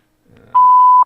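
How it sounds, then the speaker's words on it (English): A single clean electronic voicemail beep, loud and steady for about half a second, comes after a brief faint murmur. "Leave a message after the beep."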